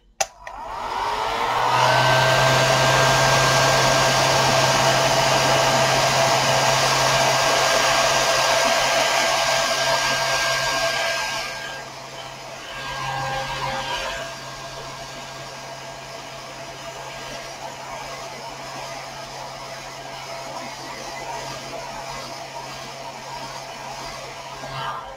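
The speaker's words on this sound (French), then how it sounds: "j'ai pris le sèche-cheveux, ça va plus vite" A handheld hair dryer blows close and loud over a wet watercolour painting, a steady roaring whoosh that drops to a lower, softer hum around the middle and keeps running to the end.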